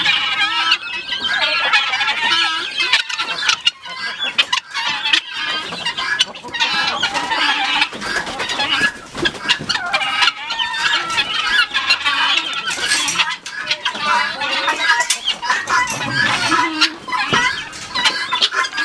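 Chickens at a coop shared with guinea fowl cluck busily and continuously, with dense overlapping calls and squawks close by throughout.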